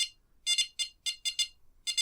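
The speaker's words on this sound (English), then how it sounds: "as you scroll through the menus, you'll hear that buzzer" A series of high-pitched electronic buzzer beeps from a ToolkitRC M7 200W field charger while scrolling its menus, some single and some in quick doubled pairs, sounding at an irregular pace over near silence.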